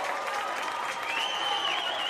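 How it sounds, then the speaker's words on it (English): Volleyball crowd during a college match timeout, a sustained wash of applause and cheering with a whistle-like shriek rising midway. "Listen to this crowd."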